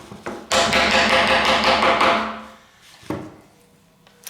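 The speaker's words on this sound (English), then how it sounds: "I'm just going to lightly tap this in position." A hammer taps a part of an 1865 Forster & Andrews pipe organ into position, giving a sharp knock followed by a dense burst of rapid tapping and a single later knock, close and fairly loud.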